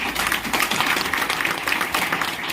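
An audience at a business meeting applauds an MLM leader, a continuous, busy patter of many hands clapping that holds steady across the room.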